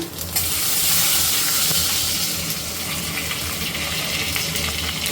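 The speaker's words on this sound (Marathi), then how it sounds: "थोडीशी घालते मोहरी आणि थोडंसं जिरं ओला ओला लसूणाचा चेचून घेतला मी थोडासा" Mustard seeds, cumin and freshly crushed wet garlic hit hot oil in a home kitchen, giving a steady close sizzle and crackle with light stirring that fades slightly after the first second.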